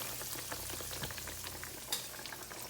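Green tomato slices frying in a pan, with a steady dense sizzle and crackle and small pops throughout, faint and close with no voices.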